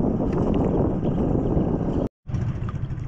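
A boat engine drones steadily on open water during a tuna fishing outing, mixed with wind rush, with a brief cutout before the running sound resumes.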